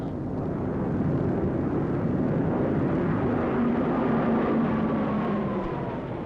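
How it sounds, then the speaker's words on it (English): Japanese military airplanes in flight during World War II, a steady broad roaring drone with a faint rising engine whine, continuous and fairly loud throughout with no voices. "These are Japanese planes."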